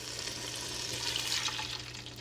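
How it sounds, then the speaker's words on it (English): Half a cup of water is poured into a soup pot already holding chicken broth, a soft, steady splashing stream that stays fairly quiet and continuous throughout. "And a little bit of water."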